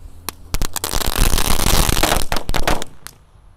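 A whole pack of egg firecrackers, set off at once, bursts in a dense crackling volley of sharp pops that runs without pause for about three seconds, with a few louder bangs, then stops abruptly.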